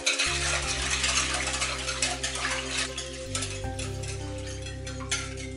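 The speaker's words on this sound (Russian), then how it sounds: "жидкую смесь перемешиваю до тех пор, пока не растворятся кристаллы соли, сахара" A spoon steadily stirs a liquid mix of butter, salt and sugar for an apple cake, making close, rhythmic scraping strokes over faint background music.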